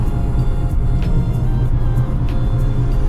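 A rear-engine McLaren rumbles close by, a loud, steady, deep engine drone with no break throughout.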